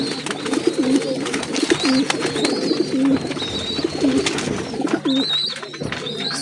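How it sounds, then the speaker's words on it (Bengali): Large Chandakhani Rampuri pigeons, a pair of males, coo repeatedly at close range in rhythmic, rolling bursts over a low background hum, with no speech. "দেখুন বিগ সাইজের পায়রা, সাইজটা দেখুন কত বড়, ছেড়ে দেবে পায়রা দুটো খাঁচায়"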